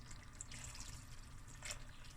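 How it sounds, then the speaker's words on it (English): Water pours into a cooking pot of lamb akhni with a quiet, steady splashing gurgle, faint and close, lasting only a couple of seconds. "Add a little bit of water."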